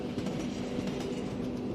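A train rolls along rails in a steady, continuous rumble with a soft rhythmic clatter of wheels, even in loudness throughout and with no voices.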